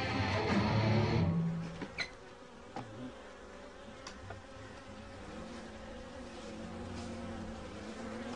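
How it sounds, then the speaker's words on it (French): Bees and hornets buzzing around a hive, a dense insect drone that is loudest at first and then settles into a steady hum with scattered sharp clicks and bumps. "Les frelons sont d'effrayants voisins qui terrorisent la colonie d'abeilles jusqu'à la fin de l'été."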